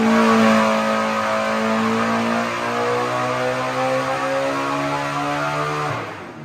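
A turbocharged LS engine on a performance expo dyno screams loud and close, its pitch climbing steadily to around 9,000 RPM at 20 pounds of boost, then cutting off abruptly near the end.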